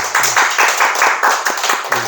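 A church congregation at a Sunday service claps in encouragement, a short burst of brisk, fairly rhythmic applause close by and loud, with a faint murmur of voices underneath.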